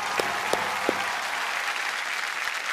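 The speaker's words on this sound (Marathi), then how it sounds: "टाळ्या होऊन जाऊ दे." Audience clapping on the set of a Marathi TV game show, a steady crowd applause throughout with a few sharper, louder claps standing out near the start, fairly even in level and free of speech.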